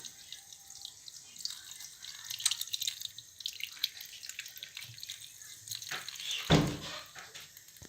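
Apricots are rinsed under running tap water before being made into jam. The water splashes and patters steadily throughout, rising into a brief louder gush near the end. No voices are heard.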